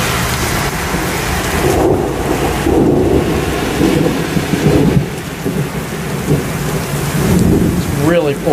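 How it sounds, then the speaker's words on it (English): A severe summer thunderstorm in Westbury brings heavy, steady pouring rain close to the mic, and deep rolling thunder rumbles through it several times. There is no talking. "Really pouring. The rain is fierce out here."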